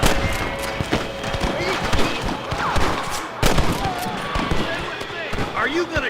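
Western-style gunshots in the video game Red Dead Redemption during a shootout with rustlers, scattered sharp shots near and far mixed with hoofbeats and game noise, with voices talking throughout.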